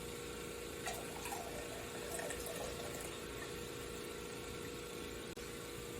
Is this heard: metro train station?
no